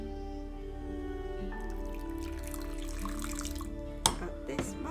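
Hot water is slowly poured for matcha in a home kitchen, a quiet trickle over a faint steady hum, ending with a couple of small splashes or clinks.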